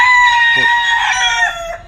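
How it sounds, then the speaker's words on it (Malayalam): A loud rooster crows close by, one long stretched call, with hens clucking beneath it. "കോഴികളുണ്ട് കേട്ടോ"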